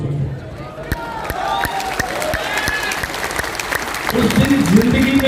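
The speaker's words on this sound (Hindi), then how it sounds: "तो बिल्कुल एक बार दिल से म्यूजिक के साथ ताली बजाइए" An audience at a motivational seminar claps in steady rhythm along with music, loud and close, while a voice carries on over the beat throughout.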